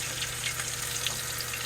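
A ribeye steak sears in butter in a hot pan, giving a steady, close, loud sizzle and crackle with no talking.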